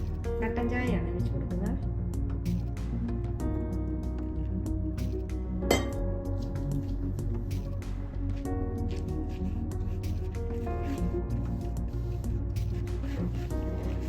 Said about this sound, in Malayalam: നന്നായിട്ട് ഇത് മിക്സ് ചെയ്തെടുക്കാം